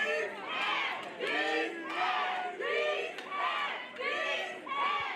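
A crowd at an Athena's Arena fight event chants in rhythmic bursts for fighter Deandra Anderson, loud and close, each shouted phrase rising and falling in a steady repeating cadence.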